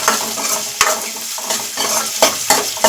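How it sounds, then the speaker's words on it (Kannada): Onions frying and being stirred in a hot pan with curry leaves, a loud steady sizzle broken by repeated scraping strokes of a utensil, with no talking. "ಈಗ ಈರುಳ್ಳಿನ ಹಾಕ್ತಾ ಹಾಕ್ತಾಯಿದ್ದೀನಿ ಇದನ್ನೇ ಸ್ವಲ್ಪ ಕೆಂಪು ಬಣ್ಣ ಬರೋವರೆಗೂ ಹುರ್ಕೋಬೇಕು"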